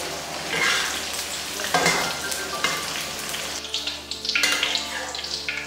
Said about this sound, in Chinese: 茄子用油炸